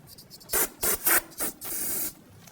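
Short bursts of aerosol solvent spray hiss onto the master cylinder reservoir cover of a 2009-2017 Volvo XC60, followed by a longer steady spray, close and fairly quiet, with no talking.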